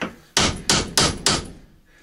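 Hammer blows drive a cold chisel against the front axle of a Chevy K10 truck: four loud, sharp metallic strikes in an even rhythm, each ringing briefly before the next, close up and without talk.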